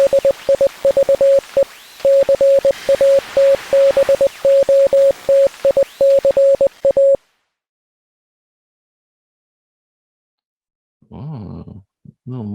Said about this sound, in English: a little Morse code in the end